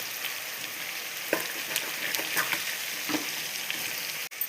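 Golden-brown chicken and fried onions are stirred together in a hot pan, making a continuous sizzle broken by scraping and clacking sounds as the mix is turned, with a sharp knock near the end.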